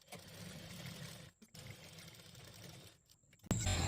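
A sewing machine stitches a folded hem on a churidar, a fast steady whirring run that pauses briefly twice before a louder burst at the end, close and without talk.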